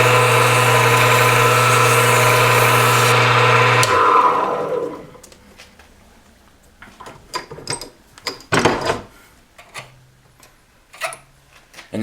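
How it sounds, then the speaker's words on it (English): A lathe spins a brass pen tube, giving a loud steady motor hum with a tonal whine for about four seconds before it winds down, followed by scattered close clicks, scrapes and handling noises of sandpaper roughing the tube. "We're going to turn on the lathe and do this."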